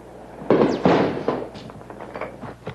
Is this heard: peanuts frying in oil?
no